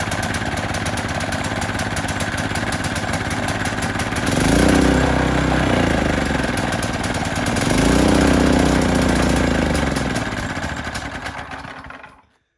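A 270cc go-kart engine runs loud and close, chugging steadily, then revving up twice in long swelling surges before it cuts out and the sound fades to silence.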